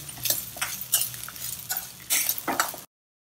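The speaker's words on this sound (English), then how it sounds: "I'll just take a few of these small onions, just about 4 or 5 of them. Fry them also in this oil." Four or five small onions with grated coconut frying in hot oil for sambar rice, a steady soft sizzle broken by clinks and scrapes of a stirring utensil against the pan, close and alone.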